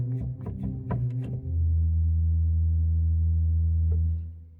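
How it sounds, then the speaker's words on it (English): Pipe organ pedal notes on the big open wood stop, a short run of notes giving way to one deep, steady, powerful low tone sustained for about two and a half seconds, close and with no talking. "The last stop on the pedal organ is the open wood, the big beefy sounding one."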